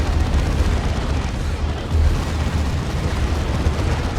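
A grenade blast in the Dawn of War 2 real-time strategy battle between Space Marines and Eldar comes through as dense, continuous booming rumble, loud and unbroken, with no voices.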